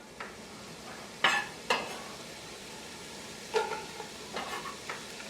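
A large diced onion, along with scallions, sizzles softly in smoked pork fat for pigtail cook-up rice. The low frying hiss sits under a few sharp scrapes and clatters of a spoon against the pot.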